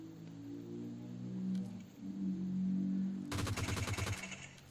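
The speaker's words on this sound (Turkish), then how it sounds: "Bu silah çok fazla sekiyormuş ya." Rapid burst of automatic gunfire from a weapon in the mobile shooter game PUBG Mobile, loud and close with quick evenly spaced shots, arriving late after a steady humming game background.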